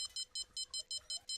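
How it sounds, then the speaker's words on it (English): A rod stand bite alarm in the Fishing Planet game beeps in a quick, even series of about eight short electronic tones, alone over quiet background. "tonight is the first night I've actually heard the beeping"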